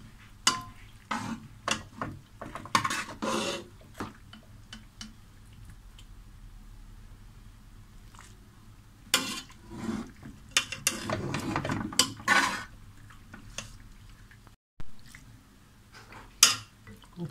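Pasta goes into a pan of pink sauce and is stirred, giving bursts of wet squishing and utensil clatter against the pan, with quieter pauses between the stirring spells.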